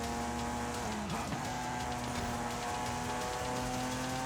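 Race car in Forza Horizon 5 driving at speed, a sustained engine drone with shifting pitch that dips briefly around a barrier hit, plus tire noise, steady and loud throughout.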